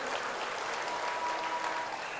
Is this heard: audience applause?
yes